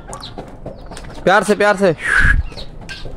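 Chickens cluck and squawk close by at a pet house where pigeons are also kept, in short bursts over a brief spoken phrase.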